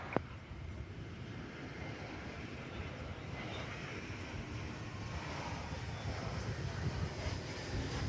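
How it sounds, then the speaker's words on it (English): An American Airlines A321 arriving from Denver at DFW, a steady broadband engine roar that holds evenly and fairly loud for several seconds, with no voices over it. "the A321 coming in from Denver, American Flight 420"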